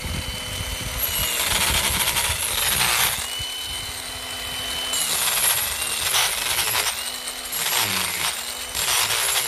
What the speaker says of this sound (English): it sounds like a dentist drill.